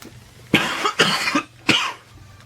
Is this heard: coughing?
yes